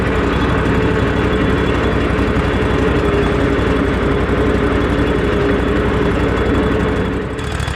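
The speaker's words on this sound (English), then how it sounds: "Go little tractor, go!" A small tractor engine runs loud and close at a steady idle, chugging continuously before dipping slightly at the very end.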